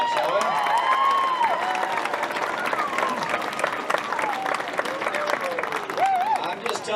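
A graduation crowd gives another round of applause for a teacher named Miss Watson after she sings, with dense sustained clapping and scattered cheers and shouts, while voices carry over the top throughout.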